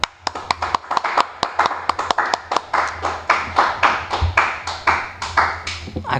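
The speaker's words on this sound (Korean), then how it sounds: "박수." A class claps on cue during a lesson on drawing a pulley, producing a quick run of sharp, close handclaps in a steady, slightly uneven rhythm that goes on for several seconds with no talking.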